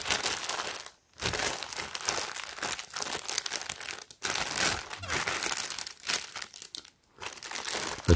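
Close, continuous crinkling of a plastic bag being handled, with a few short pauses between bursts of rustling.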